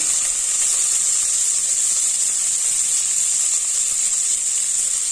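Mustard seeds and onion fry in two spoons of hot oil in a pan, giving a loud, steady, unbroken sizzle and hiss close up, with no talking.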